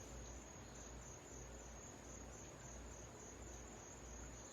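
Dense, steady chorus of crickets chirping continuously, close and fairly loud, with no voices or other sounds over it.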